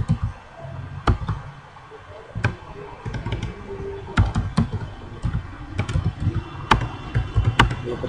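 C++ code typed on a computer keyboard, irregular clusters of sharp nearby key taps over a low background rumble.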